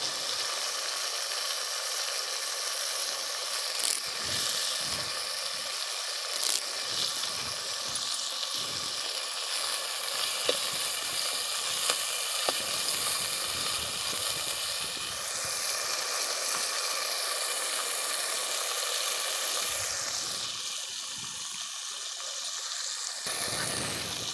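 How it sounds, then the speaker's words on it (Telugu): Tomatoes fry in a clay pot for a fish stew, giving a loud, continuous hissing sizzle with occasional light scrapes that carries steadily throughout. "బాగా మెత్తగా వేయించుకుందాం టమోటాలు"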